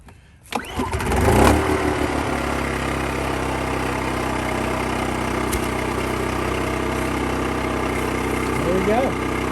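Engine switched over to propane being cranked and catching on the first try, a short starter crank and rising roar, then steady close idling running loud and even, with brief talk near the end.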